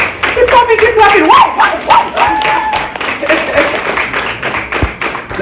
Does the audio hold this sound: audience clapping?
yes